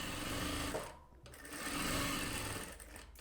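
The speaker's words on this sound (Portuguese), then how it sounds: "Vou começar só fazendo uma pequena costura aqui para firmar essa primeira faixinha" A sewing machine runs close and loud, stitching a fabric strip for a rag rug, its motor whirring in a continuous buzz that dips briefly once before carrying on.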